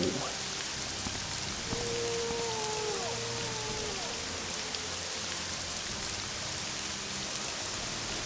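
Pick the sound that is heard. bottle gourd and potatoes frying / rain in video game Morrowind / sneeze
rain in video game Morrowind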